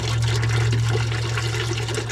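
Engine oil pouring and splashing out of a Caterpillar D9G bulldozer into a container, a steady, loud liquid gush with a low constant hum beneath it and no talk.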